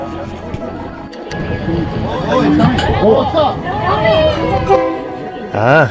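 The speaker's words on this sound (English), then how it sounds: "So the train is now beginning to arrive." A train pulls into Maeklong railway market in Ratchaburi, Thailand, its horn tooting and rumble building under a lively crowd chatter, with a final sharp horn blast near the end.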